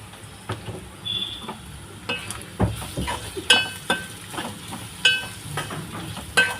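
Spoon stirring mushroom capsicum masala curry in a hot pan, with soft sizzling underneath and repeated light clinks of the spoon against the pan, close up and without speech.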